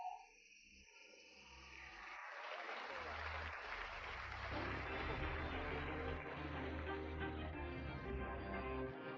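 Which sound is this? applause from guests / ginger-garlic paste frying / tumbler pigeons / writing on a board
applause from guests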